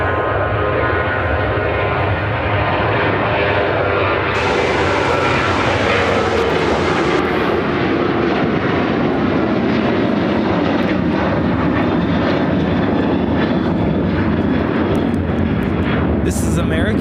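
An American Airlines Boeing 737-800 jet taking off from O'Hare, a loud, close engine roar building and holding steady with a whining tone, while people talk over it.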